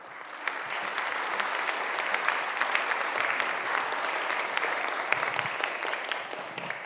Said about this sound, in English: you all deserve a round of applause for all your hard work